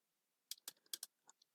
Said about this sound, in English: I'm typing here data types